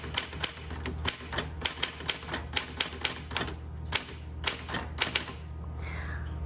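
Keys strike sharply on a 1959 Smith Corona Galaxie manual typewriter, a steady run of close, crisp clacks about three per second with a brief pause, ending in a soft ratcheting slide as the carriage moves.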